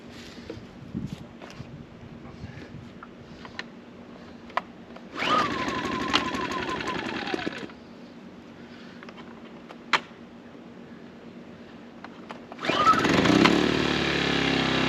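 A Sportsman Gen1000i portable generator engine catches for a few seconds and dies. After a quiet stretch it starts again with a louder, steady run close by.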